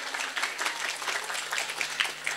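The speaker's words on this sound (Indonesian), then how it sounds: "tepuk tangan dulu dong" Steady applause from a gathered audience at a religious lecture, continuous clapping for a couple of seconds with no pauses and no voices over it.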